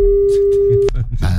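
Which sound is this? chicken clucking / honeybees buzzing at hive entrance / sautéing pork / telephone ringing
telephone ringing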